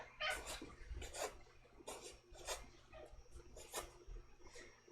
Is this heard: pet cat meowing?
yes